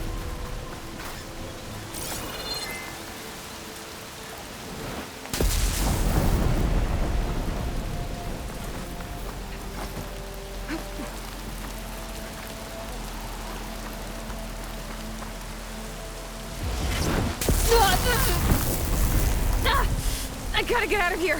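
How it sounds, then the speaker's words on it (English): In the video game Horizon Forbidden West, a thunderstorm sounds as continuous rain hiss with two heavy thunder crashes and rumbles, loud and close throughout. "Crackling with those storm clouds looming. Better be careful."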